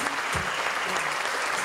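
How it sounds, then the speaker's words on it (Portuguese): Steady audience applause at a Rio Quente resort inn anniversary event in 1998, a dense, even wash of many hands clapping from a distance, fairly quiet and unbroken throughout. "Uma salva de palmas."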